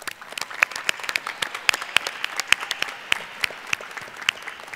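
Applause from a graduation ceremony audience after graduates' names are read, a dense, steady patter of many hands with sharper individual claps standing out, filling the whole stretch without talk.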